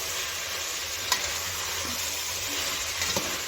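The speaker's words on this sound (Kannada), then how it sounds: "ಸ್ಟವ್ ಫ್ಲೇಮ್ನ ಮೀಡಿಯಮಲ್ಲಿ ಇಟ್ಕೊಂಡು ತರಕಾರಿನ ಒಂದು ನಿಮಿಷ ಚೆನ್ನಾಗಿ ಹೀಗೆ ಮಿಕ್ಸ್ ಮಾಡ್ಕೊಳ್ಳಿ" Vegetables for a white pulao sizzle in a pan over a medium flame while a utensil stirs and scrapes through them, with a steady frying hiss and a couple of brief sharp scrapes.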